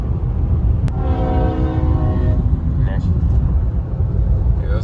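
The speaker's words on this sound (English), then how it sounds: "There goes the train." A CSX L235 freight train rumbles past on rural trackside near Greenville and Rocky Mount, North Carolina, with a steady heavy low roar and a faint horn tone over it, heard from a moving vehicle alongside.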